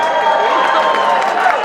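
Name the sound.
crowd applause at a mule auction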